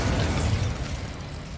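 A Bombarda spell goes off in Hogwarts Legacy, a loud, dense explosive rumble with a bright crackle that starts at full force and slowly thins over a second and a half.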